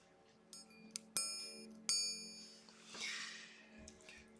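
A few bright metallic dings from the small alarm gong inside a Jaeger-LeCoultre diving alarm watch ring out one by one, each decaying with a shimmering tail, followed by a soft rustling whoosh.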